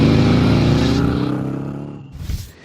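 A Harley-Davidson Sportster 883 with aftermarket mufflers revs loud and close, a deep throbbing exhaust note that holds then trails off, followed by a short burst of noise.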